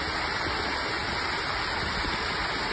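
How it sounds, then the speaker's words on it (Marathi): A small natural waterfall at Bhaje near Lonavala rushes in the rain, a constant broadband roar of falling water that stays steady and fills the whole moment. "खूप छान निसर्ग दिसतोय, नैसर्गिक धबधबा"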